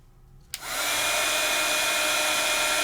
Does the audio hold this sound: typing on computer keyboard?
no